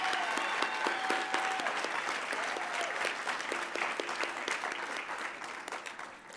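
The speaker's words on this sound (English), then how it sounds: "Let's give her a round of applause." Audience applause at an awards ceremony, a steady wash of many hands clapping that holds loud for several seconds and then slowly thins out.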